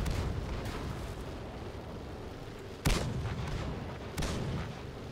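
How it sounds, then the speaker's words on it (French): World of Tanks gameplay with heavy artillery-style blasts and tank gunfire, a steady rumbling battle bed punctuated by two sharp, loud booms a little over a second apart near the end. "Il y a des explosions de partout."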